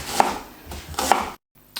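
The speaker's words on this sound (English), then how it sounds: "I've peeled the garlic and just crush it and roughly chop it" A kitchen knife chops crushed garlic and onion on a board while curry goat is being prepped: two sharp, close chops about a second apart, then a third clipped hit after a short silence, with no talking.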